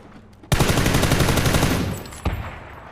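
Loud, sustained burst of automatic gunfire in the battle royale video game PUBG, a rapid continuous volley of shots lasting about a second and a half, then a brief pause and a second shorter burst.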